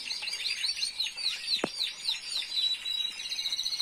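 Small caged birds chirp in quick, bright, repeated tweets close by, with steady overlapping calls and a brief thump partway through.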